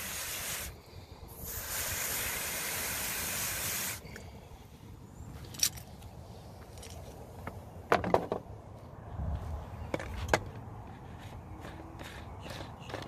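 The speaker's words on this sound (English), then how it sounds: "I'm just going to lightly mist it all into there" A hand sprayer lightly mists oxalic acid solution onto rusty parts in a few short hissing bursts, followed by nearby shuffling, handling clatter and bumps.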